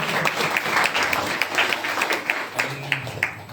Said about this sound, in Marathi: जोरदार टाळ्या म्हणतो एकदा